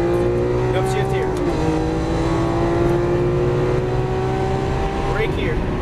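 A Lamborghini Aventador LP700-4 on a track gives a loud, sustained engine drone that dips at an upshift and then climbs again, with an instructor talking over it.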